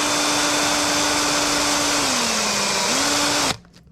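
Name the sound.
drill boring into a DIY underspin lure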